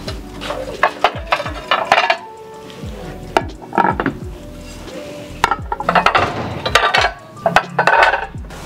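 Glass egg platters handled at a thrift store, clinking and clattering as dishes are moved and stacked, in several bursts of close, sharp knocks and rattles with quieter pauses between.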